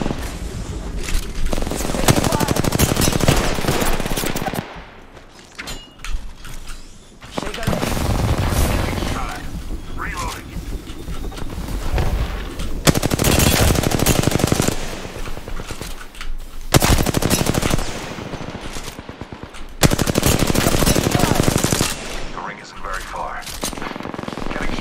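Heavy automatic weapon fire from an Apex Legends match rattles in long, dense bursts separated by brief pauses, loud and close, with occasional booms in the mix and bits of player talk underneath.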